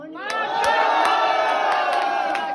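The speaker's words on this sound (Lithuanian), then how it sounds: "Kas už kurį variantą šaukiam, trypiam, plojam?" An audience voting by noise, a swelling roar of shouting voices close and loud, punctuated by sharp stomps or claps at roughly regular intervals.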